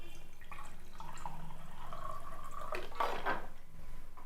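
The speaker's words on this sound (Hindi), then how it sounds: "अभी हम इसको वापस से दूसरे गिलास में डालते हैं" Kangen water poured from one glass into another, a short liquid splash and trickle with a light clink of glass peaking near the end, close and fairly quiet.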